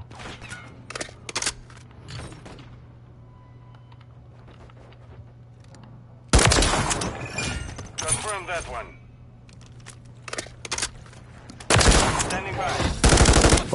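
Gunfire in the Call of Duty Modern Warfare 3 video game, hardcore mode, comes in two loud, rapid automatic bursts, each lasting a couple of seconds. Quieter single shots and game noise fill the gaps between them.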